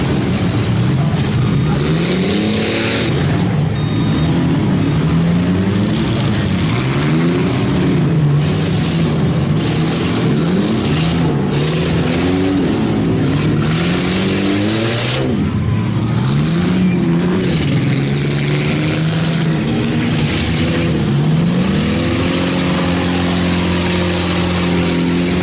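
Several racing vans roar past on a track, their engines rising and falling in overlapping waves of acceleration as they pass close by, with a continuous loud motor drone and no talking.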